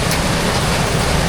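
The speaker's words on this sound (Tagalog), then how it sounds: "umulan na lakas ng ulan sa labas" Heavy rain pours steadily outside near a fishpond, a dense, loud, unbroken roar filling the whole stretch with no voices.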